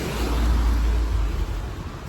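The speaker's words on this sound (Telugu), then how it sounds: "బస్సుల సౌండ్కి" Steady low rumble of road traffic with buses passing nearby, a continuous broadband roar filling the background without distinct events, heard outdoors on a weekend street.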